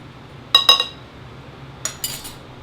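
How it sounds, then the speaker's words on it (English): A spoon clinks against a bowl while mixing pie dough ingredients with sugar, two short bursts of quick metallic taps about a second apart, close and moderately loud over a quiet room hum, with no talking. "mix it all together"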